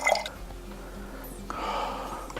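A few drops of water fall into a glass of Cardhu whisky, a faint, brief trickle and drip up close in an otherwise quiet moment.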